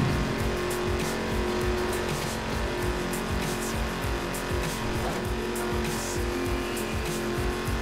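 A car drives in The Crew racing video game, its engine droning steadily and loudly throughout with a rough, pulsing rumble and occasional tire noise, and no voices.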